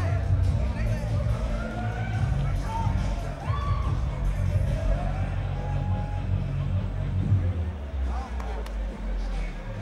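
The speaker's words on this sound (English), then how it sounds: "Crowd support" Arena crowd at an SFL 43 India fight cheering and whooping in a dense, steady roar, with a commentator talking over the noise.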